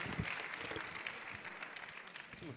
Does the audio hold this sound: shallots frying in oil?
no